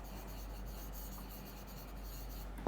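A pen writing a math solution by hand on paper, a soft continuous scratchy rubbing close by, faint and steady with a small tap near the end.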